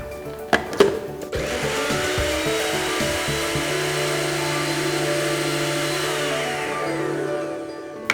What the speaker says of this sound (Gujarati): ગાર્લિક લઈએ છીએ આપણે અને ઓનિયન એની સાથે જ ક્રશ કરી દઈશું.